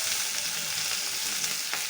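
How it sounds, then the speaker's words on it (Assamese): Ginger garlic paste dropped into hot oil, a loud continuous close sizzle with soft stirring strokes underneath, no voices. "এতিয়া দিম আদা নহৰু পেষ্টখিনি। হয়, আদা নহৰু পেষ্টখিনি দি লওঁ।"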